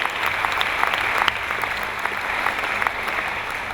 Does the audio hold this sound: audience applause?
yes